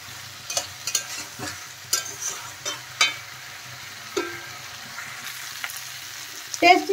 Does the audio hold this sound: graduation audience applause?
no